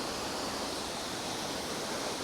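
Steady broadband rushing of falling water, loud and continuous like a nearby waterfall on a windy day, with no voices.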